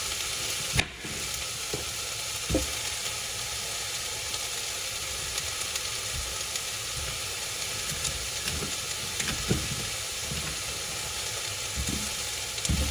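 Vegetables sizzle and cook down in a pan during home dinner prep, a steady dense frying hiss with a few soft stirring knocks, close by and with no talking.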